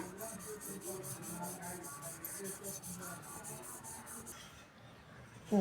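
A cloth rubbed steadily over a brass vessel during polishing gives a close, continuous rasping scrub with quick repeated strokes, alone without talk, easing off near the end before a brief knock.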